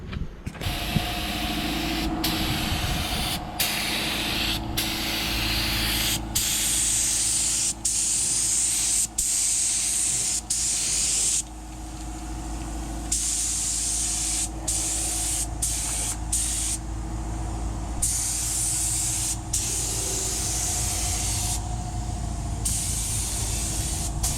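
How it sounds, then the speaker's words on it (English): A spray gun hisses as it lays high build primer onto a Corvette body being built for drifting, in long steady bursts broken by short pauses, loud and close with no talk. "we're gonna spray some high build primer on top of this stuff"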